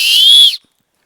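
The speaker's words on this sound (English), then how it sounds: "here I have an emergency whistle" One short, shrill blast from an emergency whistle from a survival kit, loud and close, cutting off sharply into silence.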